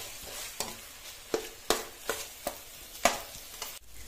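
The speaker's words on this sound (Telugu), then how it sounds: "అల్లం పేస్టు పచ్చివాసన పోయే వరకు బాగా ఫ్రై చేసుకోవాలండి." Ginger paste being fried in a pan for a chicken curry, with a steady close sizzle and about eight sharp spoon scrapes in an uneven rhythm, and no voices.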